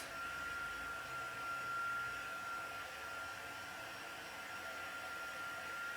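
A hair dryer blows hot air onto a watercolour wash card, making a steady, close, loud whooshing hum with a faint whine that holds the same level throughout.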